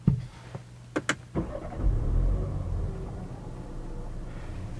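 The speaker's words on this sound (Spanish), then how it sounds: "Voy a ir encendiendo un momentito el coche." A BMW 4 Series starts up with a push-button ignition: a few sharp clicks and a brief whir, then the engine catches and settles into a steady, smooth, close idle with no talking.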